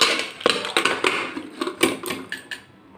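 A metal pressure cooker lid clacks and clicks as it is fitted and locked shut, a rapid run of sharp close knocks and rattles lasting a few seconds, with no talking.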